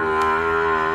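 A young bull at a cattle market gives one loud, close, sustained moo lasting about a second, with no one speaking.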